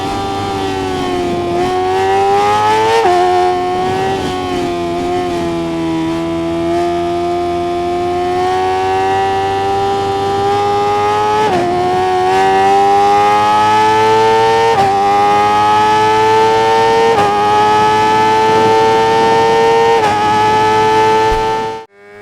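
Bimota motorcycle engine in the racing video game RIDE 5, a loud sustained high-pitched drone that rises and falls with throttle changes through gear shifts, running alone without talk for about twenty seconds before cutting off.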